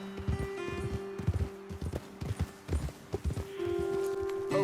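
Horse hooves clip-clop in Red Dead Redemption 2, a brisk uneven run of hoof strikes from riders moving together, with a steady tonal hum beneath and a brief pause before the hooves resume.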